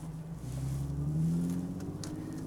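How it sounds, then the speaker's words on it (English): A car drives through traffic, its engine a low steady hum that swells slightly as it accelerates, fairly quiet and heard from inside without talking. "Let me navigate through traffic here."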